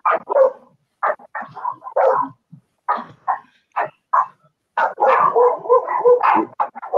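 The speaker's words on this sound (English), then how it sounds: "I'll pass it back to you while the dogs bark here for a second." Dogs barking close by in loud, repeated bursts with short pauses, building into a denser run of barks toward the end, with no talk over them.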